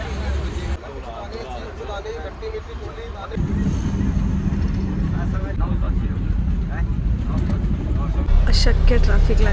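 Heavy road traffic around a bus during a trip to Omkareshwar, a loud, steady rumble of engines and road noise that runs unbroken through the whole stretch, with voices now and then over it.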